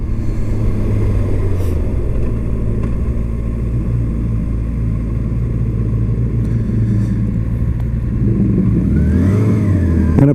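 A 2019 Kawasaki Ninja ZX-6R cruises through town at night, its engine a steady, loud, close drone with small shifts in pitch and a rise in revs near the end, with no voices.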